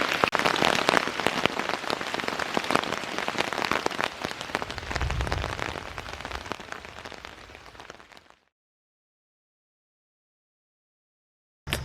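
Steady rain patters on a surface during a thunderstorm at a hammock campsite on a motorcycle camping trip, dense and continuous for about eight seconds with a low rumble midway, then it cuts to near silence before a brief sound at the end.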